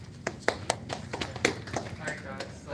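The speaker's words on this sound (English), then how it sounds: "Big round of applause for Yikan" Scattered hand claps from a small audience welcoming a speaker at a lecture, a few sharp claps rising and fading over a few seconds, with a voice speaking over them.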